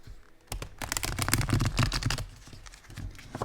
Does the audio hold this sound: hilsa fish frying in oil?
no